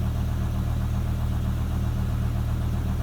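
A BMW E60 M5 engine idles steadily and close by during an oil level check. The rumble is even and continuous, with a faint rhythmic pulse and no talk.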